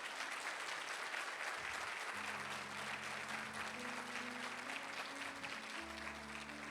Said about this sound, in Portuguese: Vamos aplaudir o Senhor pela vida dele.